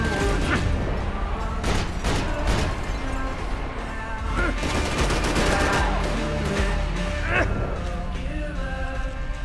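Dense gunfire in the video game Max Payne 3 against helmeted enemies. Rapid automatic bursts and single sharp shots overlap with crashes and booms in a loud, continuous fusillade that lasts the whole stretch.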